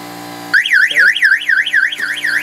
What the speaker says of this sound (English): the alarm is going to fire off.